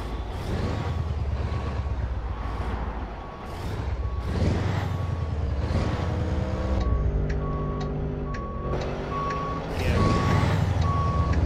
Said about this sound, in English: We're gonna have to back around that truck